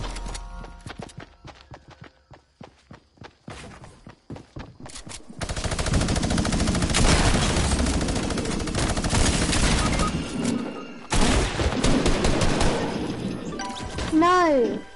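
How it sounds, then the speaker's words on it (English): Video game gunfire, with scattered single shots giving way to sustained loud bursts of automatic fire, while a voice talks over part of it and a rising electronic whine ends the stretch. "People shooting!"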